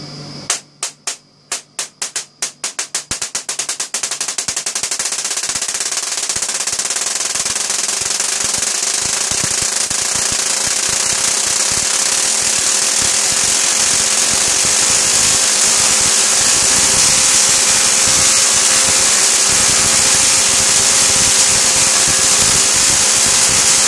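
A 100 kV X-ray transformer driving a Tesla coil fires with a loud, continuous buzzing crackle that begins as a run of sharp, separate snaps and then fuses into a harsh roar held steady for about twenty seconds.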